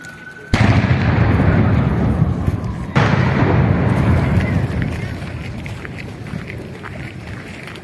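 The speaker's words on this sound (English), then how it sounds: "This is 21 gun salute in just on the border, matlab outside the Buckingham Palace, Queen Elizabeth's place." Two heavy cannon booms from a 21-gun salute outside Buckingham Palace in London, each a sharp blast trailing into a long rumbling echo, loud and fairly close over crowd noise.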